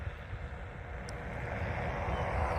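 A light training airplane's engine runs at full throttle during a touch-and-go, a steady broad roar mixed with wind rush that builds slightly louder over a few seconds, with no talk.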